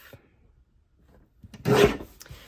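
A paper trimmer blade slides across a sheet of patterned paper in one short, close rasping cut after a quiet pause.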